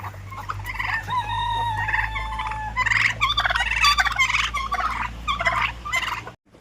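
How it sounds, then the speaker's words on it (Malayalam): Chickens at a buffalo farm call out in a string of loud, nearby squawks and clucks that come in bursts over a steady low hum. "അതാണ് കോഴി."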